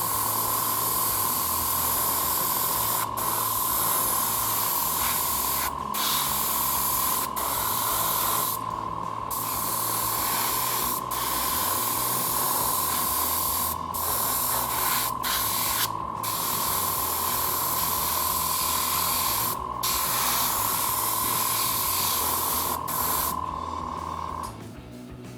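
Aerosol primer paint sprayed onto a bench leg, a loud, steady hiss lasting over twenty seconds, broken by brief pauses and short bursts as the nozzle is released and pressed again.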